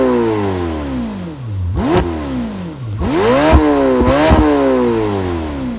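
Lamborghini Temerario hybrid supercar engine revs hard in repeated loud blips, pitch climbing and dropping sharply several times, close and dominant.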